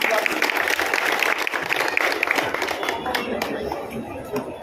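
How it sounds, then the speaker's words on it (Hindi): Crowd applause at a political rally during a door-to-door campaign event, dense clapping mixed with crowd noise and talk, continuing strongly before easing slightly near the end. "जोरदार तालियों के साथ"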